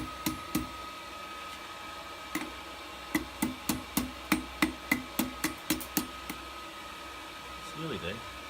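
Blacksmith's hammer striking hot metal to flatten a hair barrette: a few scattered blows, then a quick steady run of about a dozen ringing strikes, close and sharp, ending in a brief rustle.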